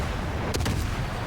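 Cruiser guns firing shells in World of Warships, a quick cluster of three or four sharp reports over a steady roar of background noise.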